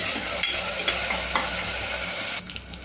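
Onions fried with a little salt hiss steadily in a pan while a spoon stirs through them, giving several scraping strokes over the sizzle, close by and uninterrupted by speech.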